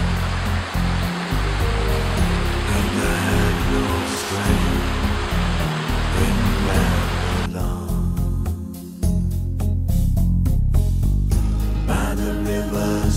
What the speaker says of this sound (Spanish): los desniveles van dando lugar a pequeñas cascadas